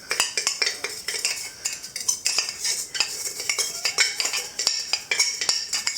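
A metal knife scrapes and taps against hardened sugar inside a canister, making rapid, irregular clinks and scratches that run close and fairly loud with no talk.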